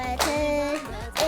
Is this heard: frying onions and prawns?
no